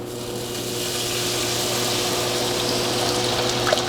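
A sauce mixture is poured into a hot skillet on medium heat, a steady sizzling rush with a low constant hum beneath, fairly loud and close, without talk.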